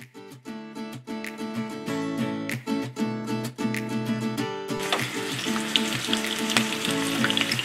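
Blackened striped bass fillet hitting a hot stove-top pan, a broad sizzle rising about halfway through and continuing steadily beneath loud melodic background music, which plays alone before the frying starts.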